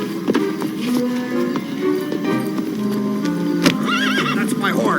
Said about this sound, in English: That's my horse.